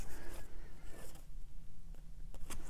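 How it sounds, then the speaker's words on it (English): Large tarot cards riffle and slide against each other in quick rustling bursts, several shuffles close by, with brief pauses between. "Let me shuffle a little bit more."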